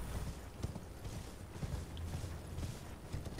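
Horse hoofbeats in the Elden Ring video game, a steady stream of clip-clop steps at a gallop, fairly constant and moderately loud, with a faint low rumble underneath and no talking.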